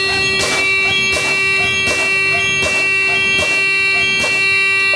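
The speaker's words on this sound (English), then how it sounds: "At 60 psi, a red light and the buzzer came on" A loud truck low air pressure warning buzzer sounds in regular, evenly spaced pulses, about six times, with a steady tone holding underneath.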